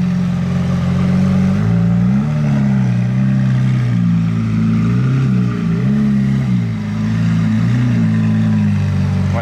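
A sports car with gold rims runs loud and close, its deep engine rumbling steadily with repeated small rises and dips in revs, no voices.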